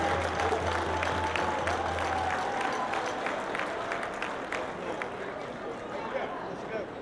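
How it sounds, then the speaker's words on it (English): A crowd at an Honor Flight veterans' homecoming applauds the volunteers, a broad continuous clapping with a low hum and faint voices mixed in, fading a little as it goes on. "I need a big round of applause for our volunteers."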